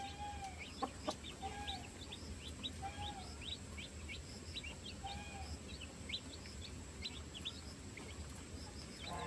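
A hen clucks softly near her chicks in a farmyard flock, giving short repeated calls over a steady low background, with higher chick peeps scattered throughout and no talk.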